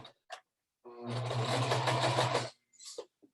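A sewing machine stitches a curved seam in a short, steady burst of fast mechanical whirring lasting about a second and a half, close and clear, with brief quiet clicks and handling sounds before and after.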